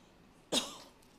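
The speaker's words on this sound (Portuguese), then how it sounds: "Vou tossir agora." One short, sharp cough close by, standing alone against a quiet background.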